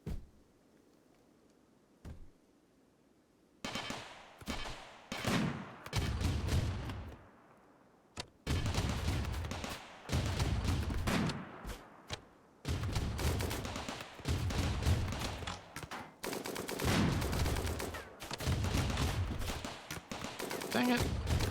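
SMG fire crackles during a raid in the video game Rimworld, bursts of rapid shots starting after a quiet stretch and repeating in loud clusters, broken by short pauses, with voices in the mix.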